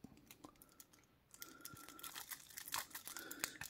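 Close, quiet crinkling and tearing of thin plastic shrink wrap on a 7 Wonders Architects board game box, with scattered small crackles and scratches as it is picked at and pulled.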